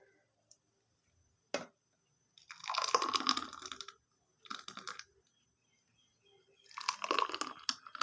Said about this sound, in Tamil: மாதுளம்பழத்தை நம்ம மிக்சியில் போட்டு அடித்ததை நம்ம டம்ளரில் ஊற்றிக்கலாம்.